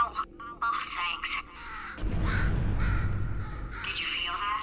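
A crow caws a few times in the Portal 2 video game, harsh calls at the start followed by a loud rumbling roar, with a voice speaking over parts of it.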